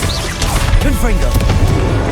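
Confringo spell blast in the Hogwarts Legacy game, a loud crashing burst with swirling magical whooshes over a couple of seconds, mixed with game voices and effects.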